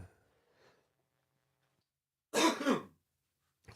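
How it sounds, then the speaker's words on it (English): A single harsh, loud throat-clearing cough bursts out after a stretch of near silence, lasting about half a second, with a faint trace of another at the very end. "I didn't want to cough on mic for that one."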